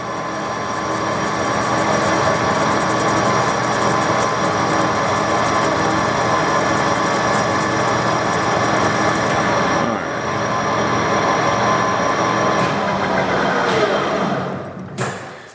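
A lathe cuts a long, slender metal part in one continuous pass, giving a loud, steady broadband machining whir that holds for about fifteen seconds before easing off, with no voices.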